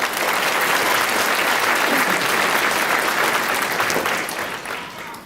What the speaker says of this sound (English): So please give them one more round of applause.